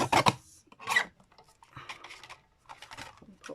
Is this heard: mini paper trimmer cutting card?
yes